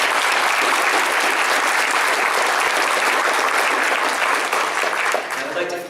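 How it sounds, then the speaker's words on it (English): Sustained audience applause at an East Hartford Adult Education commencement ceremony honoring graduates and award recipients, a dense, loud wash of clapping that fills the room and begins tapering off near the end. "I would like to give all of our graduates and award recipients a big round of applause."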